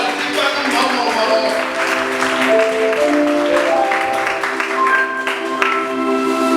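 A church congregation applauds at a Sunday worship service, brisk clapping mixed with cheers and voices, while music and sung tones carry on beneath the crowd.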